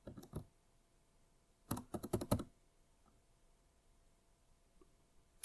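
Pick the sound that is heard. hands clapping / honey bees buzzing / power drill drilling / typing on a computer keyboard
typing on a computer keyboard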